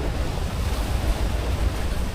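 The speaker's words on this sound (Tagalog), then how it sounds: "Yan ang dagat dito." Sea waves at a beach resort near Manila, a steady wash of surf mixed with wind buffeting the microphone, continuous and fairly loud with no voices.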